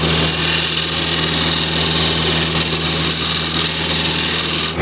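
A wood lathe spins as a square scraper cuts a recess in the turning, producing a loud, steady motor hum with a constant hiss of cutting that never pauses.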